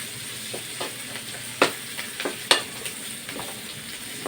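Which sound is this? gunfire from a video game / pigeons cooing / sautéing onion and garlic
sautéing onion and garlic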